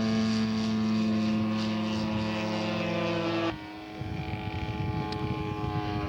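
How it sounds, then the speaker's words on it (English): A propeller-driven scale model airplane at a scale aircraft show drones loudly and steadily close by, then the engine note drops sharply to a lower, rougher hum as it comes in to land. "Jeremy Firstman coming in for his landing."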